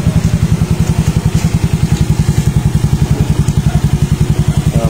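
A 2020 Yamaha Mio Soulty scooter engine idling close by, a loud, fast and even putter with no break.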